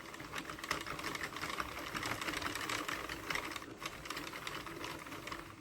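The handle of a Sentro knitting machine is cranked round, giving a faint, steady run of rapid plastic clicking and rattling over a few seconds.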